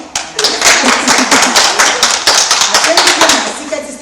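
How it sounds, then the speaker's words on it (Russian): Children in a ballroom dance class clap together for a classmate, a burst of close, quick hand claps lasting a few seconds, with a coach's voice in the room. "Аплодисменты."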